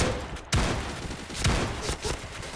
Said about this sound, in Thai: ลูกซองตัวนี้ ต้องยิงสับนะครับ ถ้าไม่ยิงสับมันจะเป็นแบบนี้เนี่ย